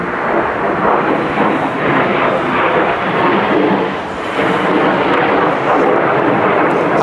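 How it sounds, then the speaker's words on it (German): A loud, steady aircraft roar fills the whole stretch, a broad rumbling wash that swells slightly and holds with no voices. "Wir lassen mal kurz das Flugzeug fliegen."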